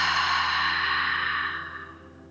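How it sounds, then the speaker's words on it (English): A breathing exercise sigh: a long, steady breath that is mostly exhale, airy and close, fading out gradually over about two seconds with no talking. "a full sigh or exhale through the mouth."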